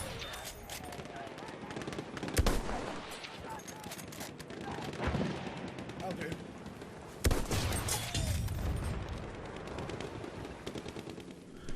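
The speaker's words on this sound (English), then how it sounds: "There's a machine gun." Machine gun fire from the World War I shooter Battlefield 1 rattles in bursts amid dense battlefield noise, with sharp louder cracks standing out and a voice talking over the gameplay.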